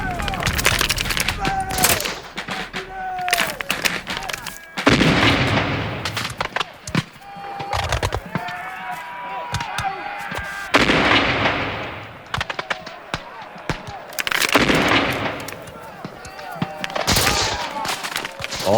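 Musket and cannon fire at the 1745 siege of the Louisbourg fortress: repeated sharp gunshot cracks and heavier booming blasts come in bursts, mixed with shouting voices and battle noise throughout.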